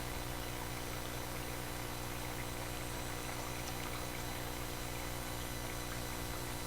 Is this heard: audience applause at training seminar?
no